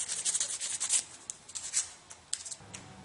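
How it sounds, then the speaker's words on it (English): Quick, close scratchy strokes of sandpaper rubbing the painted surface of a gun, in irregular bursts with brief pauses, no voices. "Might need to do some more sanding"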